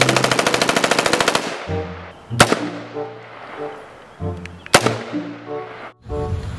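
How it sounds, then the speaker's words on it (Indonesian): Rapid automatic M4 assault rifle gunfire in a video game rattles in a fast burst, followed by two sharp single shots and synthetic musical tones, loud and close. "ada tembakan laras panjang lagi"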